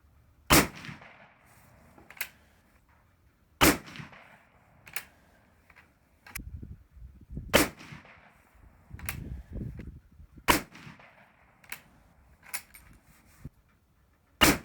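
Military surplus rifle fired outdoors with a notoriously poor trigger, producing a series of sharp, loud single gunshots spaced a few seconds apart, about eight reports over the stretch with quieter rustling and handling noise between them.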